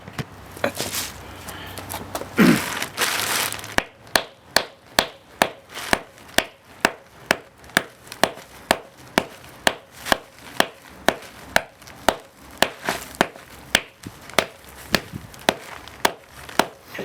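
A quartz rock is struck over and over, a loud, steady run of sharp impact cracks that land about every half second, after a brief scraping rustle at the start.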